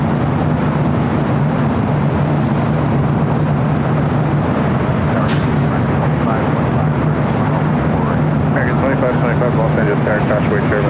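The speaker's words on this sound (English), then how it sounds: "Next arrival on the north side, on the Pine Airways, the Dreamliner" A Boeing 787 Dreamliner jet arrives at LAX with a loud, steady engine roar and low droning hum that persists throughout, a voice present beneath it.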